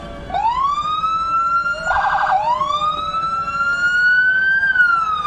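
An emergency siren at a street parade wails in long rising sweeps, broken briefly by a harsh buzzing tone, then climbing again; close and steady with no talking.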